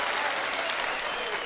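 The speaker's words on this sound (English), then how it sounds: "Give me a round of applause for them strangelings." A live show audience gives a steady, even round of applause, continuous clapping that holds at full level throughout the short stretch.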